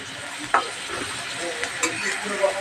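Paste of poppy seed, mustard and coconut sizzling in a pan, a continuous close hiss with a sharp clink early on and a few lighter taps as it cooks.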